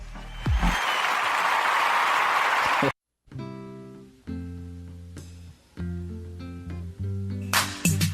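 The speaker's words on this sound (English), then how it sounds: "That deserves a round of applause, man" Applause bursts from a crowd on a radio show, a broad rushing wash of clapping for a few seconds that stops abruptly, followed by music.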